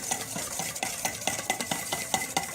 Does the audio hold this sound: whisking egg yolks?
yes